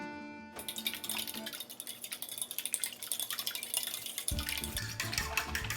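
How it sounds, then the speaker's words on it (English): Eggs and water are stirred in a bowl for Italian pizza bread, with a spoon clinking and scraping in quick, light, irregular strokes close by. "And just give it a little bit of a stir."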